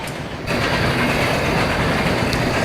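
A diesel train rumbles past with a steady clickety-clack of wheels in the Indian Railways Train Simulator game, loud and continuous after a brief quieter start.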